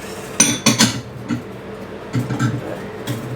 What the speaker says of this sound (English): We're going to whisk in our eggs, or egg yolks, sugar if you're using.